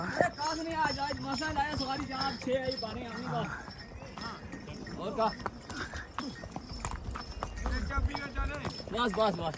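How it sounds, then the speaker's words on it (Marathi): Horse hooves clip-clop along a snowy mountain trail near Sheshnag Lake on the Amarnath Yatra pilgrimage route, in an uneven rhythm, mixed with steady talking and movement noise. "आणि आम्ही अजून घोड्यावरून चाललो आहे"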